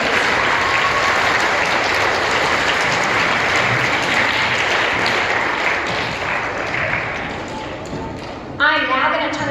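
Students applaud at a school welcome-back assembly, a loud, dense wash of clapping from a large group that holds steady for most of the clip, then thins and fades near the end.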